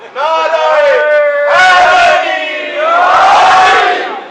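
A majlis crowd chants religious slogans in loud, unison bursts: three sustained chanted phrases separated by brief pauses, voices strongly pitched and close.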